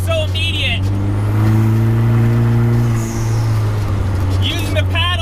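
A 2020 Vanderhall Carmel three-wheeler accelerates hard on a back road as its transmission kicks down, with a loud, steady engine drone rising slightly in pitch and a voice talking at the start and end.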